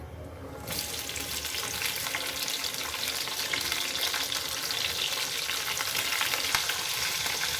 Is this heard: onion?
yes